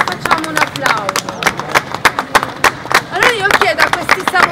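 Applause and clapping from a crowd at a Japanese festival in Spotorno as samurai performers are called forward, sharp close hand claps in an uneven burst with a voice talking over them.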